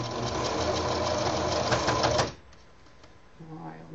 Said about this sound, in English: So I'm going to go a couple of stitches and back up a couple.